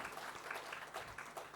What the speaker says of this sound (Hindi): सभी तालियों से समर्थन सहयोग करेंगे